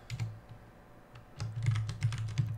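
Fast typing of code on a computer keyboard, close and fairly soft, with a quick burst of keystrokes, a brief lull, then a denser run of clicks.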